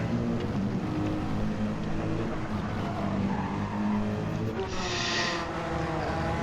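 Race cars, including a Porsche, lapping Yas Marina in a sim-racing qualifying session. A dense, steady engine drone roars continuously with no breaks, and a single brief hiss rises near the end.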